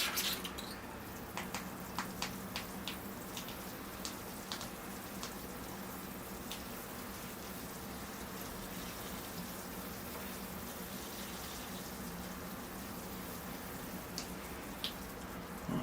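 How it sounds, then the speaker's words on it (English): Water trickles and spatters onto the soil of a small potted guava bonsai, a quiet continuous patter with occasional sharper drips, faint and close, no voices. "Alright, here I go with the watering."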